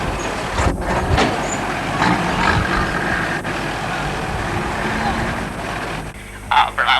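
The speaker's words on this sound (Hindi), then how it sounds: "ये देखिए बाबा जी की गाड़ी आ गई" Baba Jai Gurudev's vehicle arrives at a 1986 satsang caravan gathering in Assam, heard as a steady, loud engine rumble mixed with dense crowd noise and voices, with a few brief sharp sounds near the end.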